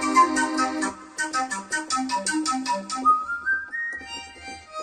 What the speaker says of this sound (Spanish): Violines silbidos.